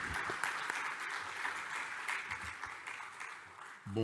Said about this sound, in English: I would like to ask for an applause to them.